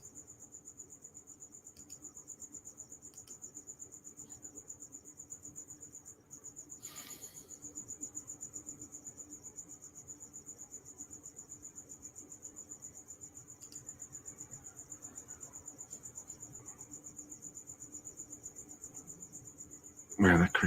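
A loud, steady cricket chirps nonstop, close by and dominant, with a rapid pulsing rhythm through the whole stretch, and a brief clatter near the end.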